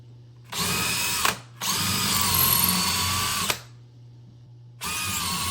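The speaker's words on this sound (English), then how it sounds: "We have a 5/32 drill. I'm going to drill 4 holes." A power drill with a 5/32 bit bores holes into a wall for mounting a monitor, in two loud sustained runs of about one and two seconds, then a third starting near the end, with a low hum between.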